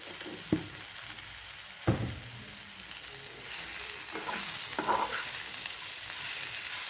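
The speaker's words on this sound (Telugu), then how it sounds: "మొత్తం అంతా కలుపుకొని ఈ మసాలాలన్నీ దీనికి బాగా పట్టాలి." Elephant yam and dried prawn curry with salt, chilli and turmeric, stirred in a pan: a quiet, steady sizzle broken by a few sharp scraping knocks of the spoon, with the frying growing slightly fuller later.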